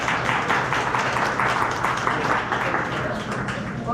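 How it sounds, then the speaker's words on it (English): Audience applause for a chef at a morning cooking demonstration, continuous moderate clapping from a crowd lasting about four seconds. "A round of applause for Miss Erin."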